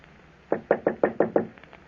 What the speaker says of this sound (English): I heard a knock on the door.